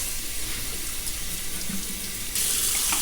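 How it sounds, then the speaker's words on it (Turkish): Tap water runs steadily into a soda maker bottle, a continuous close splashing hiss that grows brighter and louder near the end as the bottle fills. "Normal çeşme suyunu kamerayı durdurmadan gözünüzün önünde dolduruyorum"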